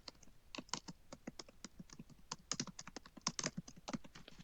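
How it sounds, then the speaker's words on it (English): Fingers type on a computer keyboard in a quiet room, producing rapid, irregular bursts of crisp key clicks that are close-up but faint, with brief pauses between runs of keystrokes. "So when I'm typing in my first name"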